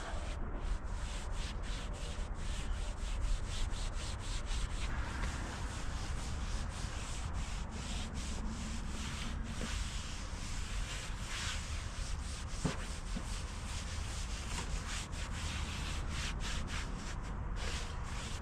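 ZEP floor polish is wiped on as a cheap clear coat over a 1948 Pontiac Streamliner, heard as quiet, close, steady rubbing strokes in a quick repeating rhythm that continues throughout.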